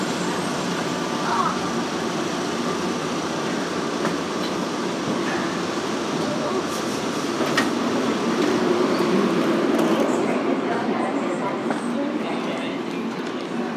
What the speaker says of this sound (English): Please hold on. This train is stopping.